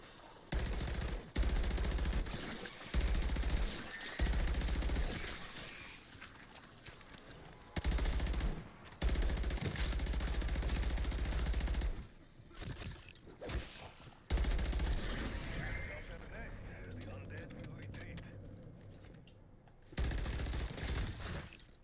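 Bursts of automatic gunfire in MW3 Zombies, loud rapid volleys broken by short pauses, with scattered game effects between them and no talking.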